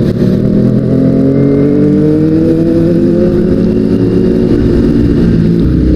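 A Kawasaki ZX25R sport motorcycle engine with carbon modifications roaring loudly up close, its pitch rising steadily as the revs climb.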